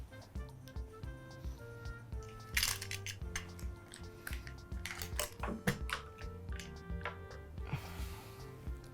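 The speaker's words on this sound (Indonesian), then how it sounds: "Ini gunting yang kita akan bawa untuk melaksanakan tahallul atau pemotongan rambut. Jadi kita masukkan juga." A pair of hair-cutting scissors is packed into a suitcase of umrah gear, making quiet, close metallic clicks and small rattles scattered throughout, with no talk.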